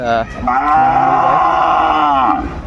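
One long, loud moo from a Sahiwal bull close by at a cattle market, a drawn-out bellow that swells and then fades; no talking.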